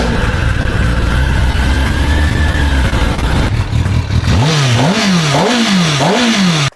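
A motorcycle fitted with an aftermarket racing exhaust in place of the stock one, idling loud and close before giving several sharp rising revs with a throaty, crackling rasp.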